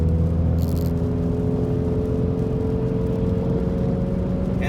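A 2017 Ford Mustang EcoBoost Performance Package, turbocharged four-cylinder with a six-speed manual, pulls in sixth gear at half throttle, giving a steady, loud, droning engine note with road rumble throughout and no talk.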